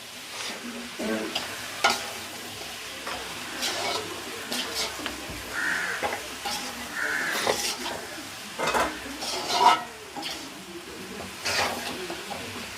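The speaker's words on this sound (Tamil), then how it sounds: "நாங்கள் தேவையான அளவு சோஸ் விட்டு அதையும் சேர்த்து நாங்கள் மிக்ஸ் பண்ண போகிறோம்" Sauce stirred into meat devil frying with onions and chillies in oil in a pan, a steady sizzle under repeated scraping strokes of the spoon, close and moderately loud throughout.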